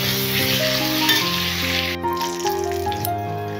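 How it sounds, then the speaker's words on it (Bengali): Potato pieces fry in hot oil with salt and turmeric, giving a steady, close sizzle that runs throughout, with some music-like tones layered under it. "নুন আর হলুদ দিয়ে আলুটাকে একটু ভালো করে ভেজে নেব।"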